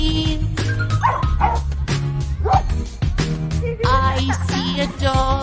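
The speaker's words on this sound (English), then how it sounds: "I see a dog. Woof, woof, woof." A dog barks three times in a bright children's nursery rhyme about animal sounds, playful woofs set into a bouncy musical accompaniment with bass, keys and light percussion.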